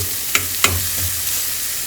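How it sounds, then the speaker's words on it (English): Chopped chorizo fries in a pan for a breakfast burrito, a steady close sizzle broken by a couple of sharp clicks and light scraping stirs, with no voices. "I chopped up the chorizo a bit, and I'm gonna fry that up"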